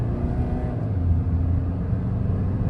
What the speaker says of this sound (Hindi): एक बार मैं पंजा पूरा दबाता हूँ, ये देखो जो खिंचती है ना कार भाई